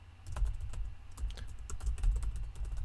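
Fast typing on a computer keyboard during a game-engine tutorial, a quick irregular run of close key clicks with no talk.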